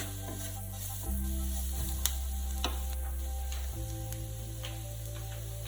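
Chicken steak frying in a pan, a quiet steady sizzle with faint crackles and a few sharp ticks over a low constant hum.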